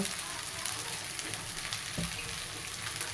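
Poha with onion and spices sizzles quietly as it is stir-fried in a pan, a soft continuous hiss with faint scraping and a low background rumble.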